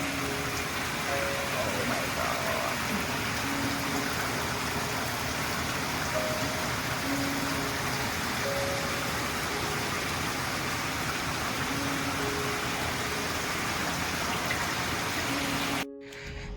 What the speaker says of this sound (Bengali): কি জোরে বৃষ্টি পড়ছে, দেখো কি অবস্থা।